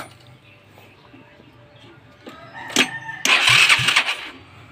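After faint mechanical rattling, a Nouvo motor scooter's small engine, fitted with no exhaust pipe, is cranked and briefly catches with a loud, harsh roar before cutting off.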